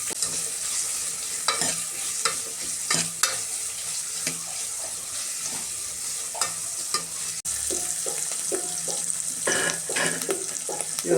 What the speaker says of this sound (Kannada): ಇದೊಂಚೂರು ಫ್ರೈ ಮಾಡ್ಕೊತೀವಿ.